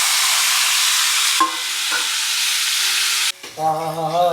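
Marinated freshwater fish hits a hot pot and sizzles with a loud, dense, close hiss that runs steadily, then cuts out briefly near the end before tonal sounds and renewed sizzling take over.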